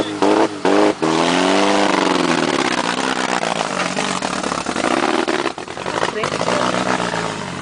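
A motorcycle engine revs up close with rising and falling pitch sweeps, then pulls away, loud and sustained, with voices talking over it.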